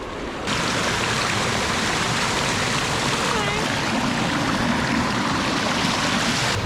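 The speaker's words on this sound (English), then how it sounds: "it's full of these freaking infinity pools, incredible infinity pools and waterfalls of water" Water flowing down the warm, steaming natural travertine infinity pools and small waterfalls of Pamukkale, Turkey: a continuous broadband rush that starts suddenly and stays loud and close throughout, with no speech heard.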